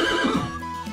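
A horse at an open-air village museum neighs loudly and close by in a short whinny, with no voices.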